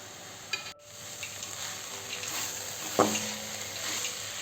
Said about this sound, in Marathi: पंधरा मिनिट असं शिजायला ठेवू आपण भाजी।